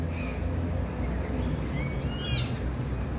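A bird calls faintly with a few rising, chirpy notes over steady outdoor noise and rumble in a botanical garden in Hong Kong.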